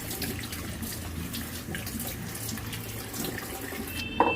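Running tap water splashes steadily over a new cast iron appe pan in a kitchen sink, a constant close hiss and patter with a clink near the end.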